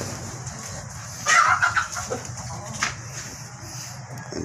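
Pet chickens on a house rooftop give a few clucks in the middle stretch, moderately close against a low steady background hum.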